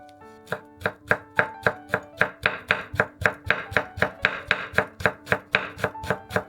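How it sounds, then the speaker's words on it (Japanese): A knife finely slicing rolled shiso (ōba) leaves on a cutting board, about twenty crisp, evenly spaced chops in a quick steady rhythm, close and clear with no talking. "葉は丸めてから切ると細く切りやすくなります。"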